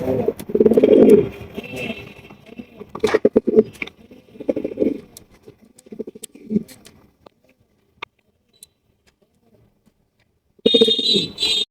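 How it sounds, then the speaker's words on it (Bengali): Short face pigeons coo at a bird market, low throaty calls repeating in bursts close by, with pauses of near silence and a sharper burst of bird noise near the end; no clear talk. "রয়েছে একজোড়া শর্ট ফেস কবুতর"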